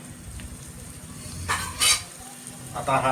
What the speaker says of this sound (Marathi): दहीचा मसाला देखील आपल्याला परतून घ्यायचा आहे चांगला